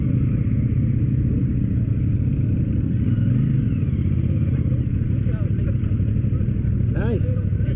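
CFMOTO motorcycle churning through a muddy ride, its engine a steady loud rumble throughout with revving swells, while people chatter nearby.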